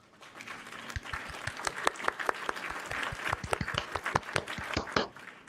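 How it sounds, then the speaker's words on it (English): Canned applause sound effect triggered during a community Q&A livestream: a steady wash of clapping with distinct individual claps, moderately loud, running about five seconds before cutting off. "So now we should be able to do applause again to applause people."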